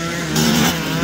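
A vintage 1989 Honda CR500R motocross bike with a Millar Racing Engineering tuned motor races at MX338 at around 4,000 RPM. Its engine roar is loud and continuous, swelling briefly as it pulls past.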